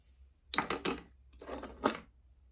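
Fragments of blue-and-white patterned porcelain plate handled close up, two brief bursts of light clinking and scraping chinks separated by a short pause, with no voices.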